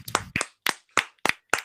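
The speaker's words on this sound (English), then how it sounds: "Let's just give a clap." A single person clapping hands six times in a loose, slightly uneven rhythm, crisp and close, with silence between claps.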